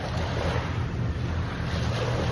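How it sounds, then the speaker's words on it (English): A tuna fishing boat on the open ocean off a beach on a hot day, heard as a steady loud wash of engine, surf and wind noise with no distinct pass-by. "There's that tuna fishing boat."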